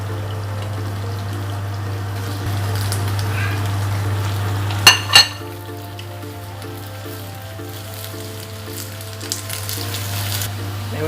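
Chopped garlic, rosemary and onion frying in oil in a pan, a steady close sizzle with a low hum underneath and a couple of sharp clatters of a utensil partway through.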